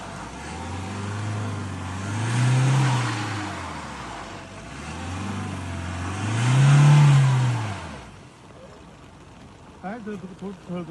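A police car stuck in mud, its engine revving hard in two long swelling bursts that rise and fall, close and loud, before it drops to a softer idle at the end.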